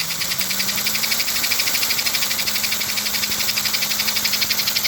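American Flyer 300 toy train motor running at 12 volts, a steady mechanical hum with a fast, even buzzing rattle throughout, close and moderately loud, with no talk.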